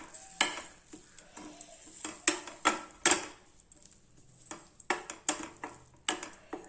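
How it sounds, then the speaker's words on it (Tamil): Ground peanuts being stirred into a pan of frying beans, with repeated bursts of spatula scraping and clinks in an uneven rhythm over a faint sizzle, close and fairly quiet. "போட்டு நல்லா ஒரு கிளறிக்கலாம்"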